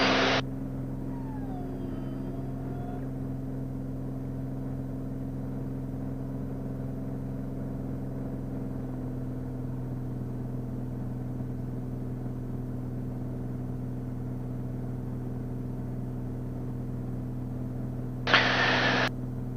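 A small aircraft engine at takeoff power during a departure climb from Yakima drones steadily and evenly at a constant pitch, heard from inside the cabin with no pauses and brief radio crackles at the start and end.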